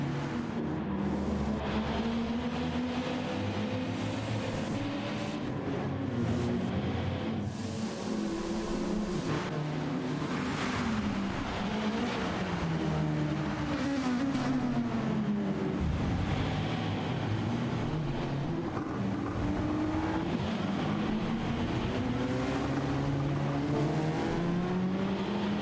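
Touring cars in a racing game, on the Styrian Sprint track, run in formation behind a safety car, their engines droning and revving steadily with rising and falling pitch. Several cars sound close together throughout, loud and continuous, with no voices.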